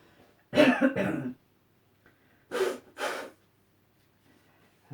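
Three close coughs: a harsh double burst, a pause, then two more separate coughs, with quiet room between them.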